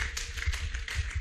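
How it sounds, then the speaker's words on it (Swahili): Applause from a congregation at a church service, a short burst of many hands clapping together with uneven, rapid claps. "Tuwapigie makofi."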